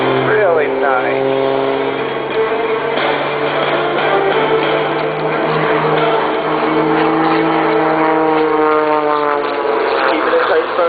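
A Sidewinder propeller aerobatic plane performs a tail-over-nose tumble at an air show in Rochester, New York. The engine drones loudly and shifts in pitch throughout, with an announcer talking over it.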